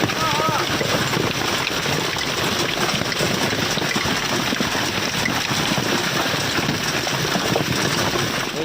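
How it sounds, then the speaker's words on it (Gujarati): Rain mixed with hail falling steadily, a dense, even hiss of drops striking surfaces close by, constant and fairly loud throughout with no pauses. "વરસાદ પ્લસ કરા"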